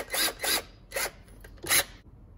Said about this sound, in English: I like to just take my drill, chuck it onto the valve.